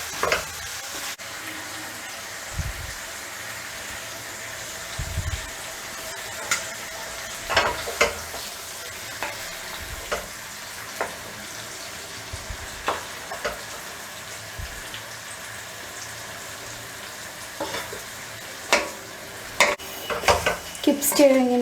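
Country chicken masala fries in a pan over high flame, a soft continuous sizzle broken by repeated scraping stirs and occasional clinks of a utensil against the pan.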